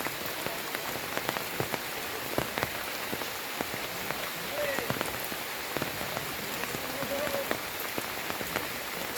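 Heavy monsoon rain pours down in Rajapur in the Konkan, a dense, steady hiss of drops hitting surfaces with scattered louder splats, close and continuous throughout.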